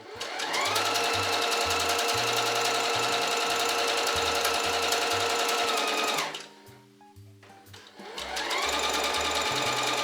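A sewing machine stitches basting rows on a dress skirt with a fast rhythmic clatter, close and loud, briefly slowing and stopping midway before starting up again.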